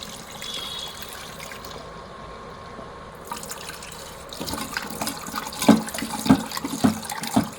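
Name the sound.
washing lentils (dal) in water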